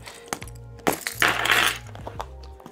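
A bunch of keys jingles and clinks close by in several short metallic bursts, with a brighter rattle in the middle, no speech.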